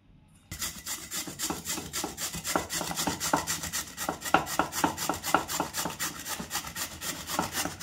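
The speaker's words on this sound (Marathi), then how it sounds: "मी 2 आलू याची साल काढून घेतली आणि किसणीच्या साहाय्याने मी किसून घेणार आहे।" Two peeled potatoes rubbed against a hand grater, a close, continuous rasping scrape in quick repeated strokes that starts after a brief silence and keeps a steady back-and-forth rhythm, with no talking.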